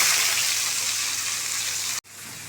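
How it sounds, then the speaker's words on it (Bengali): Chopped onion and chili hit hot oil in a pan, giving a loud, steady sizzle and crackle that holds for about two seconds before breaking off abruptly, then faintly resuming. "তেল গরম হয়ে গেছে, পেঁয়াজ লঙ্কা কুচিটা দিয়ে দিলাম"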